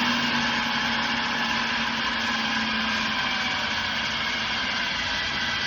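An electric mixer runs without a break through cookie batter, giving a loud, even, high motor whine with a faint grinding edge, and no one speaks.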